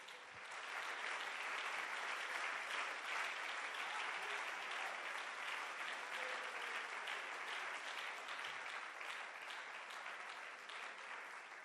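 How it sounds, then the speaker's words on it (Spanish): A Pentecostal church congregation claps vigorously for the Lord, a thick, continuous burst of applause that stays strong for several seconds before easing slightly. "Dele fuerte ese aplauso al Señor."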